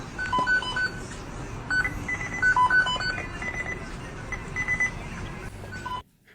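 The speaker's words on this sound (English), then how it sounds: "Those beeps are being played in an exact melody." A Zune HD media player emits a quick melodic sequence of electronic beeps at differing pitches in a precise rhythm, clear and fairly close over a faint background, ending abruptly.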